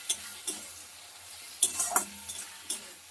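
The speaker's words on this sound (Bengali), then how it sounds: "টমেটো বাটা আদা রসুন বাটা সব কিছু একসঙ্গে দিয়ে এবার একটু ভালো করে কষিয়ে নেব" Tomato, ginger and garlic paste sautéing for Bengali egg curry, soft sizzling under a few sharp spoon taps and scrapes against the pan, close and brief, no voices.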